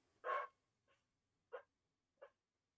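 A player at a tabletop fantasy role-playing session imitates a dog: one loud bark-like yelp followed by three shorter, softer yips spaced apart, close to the mic with quiet gaps between.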